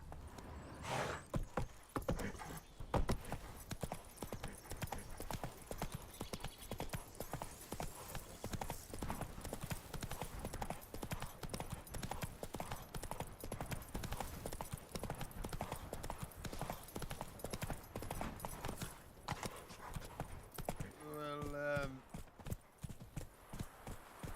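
A horse gallops in The Witcher 3 video game, its hoofbeats drumming quickly and evenly almost the whole way through. A short whinny rises near the end.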